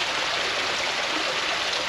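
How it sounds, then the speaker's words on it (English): Water rushes steadily through the bywash beside a canal lock on the Ribble Link, a dense, even roar that fills the whole stretch without pause and with no voices. "you can see there's quite a bit of water coming through the bywash here"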